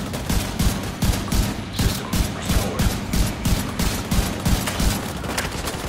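Rapid bursts of automatic gunfire from the shooter game The Division 2 rattle in a fast, dense rhythm, loud and continuous with sharp repeated cracks.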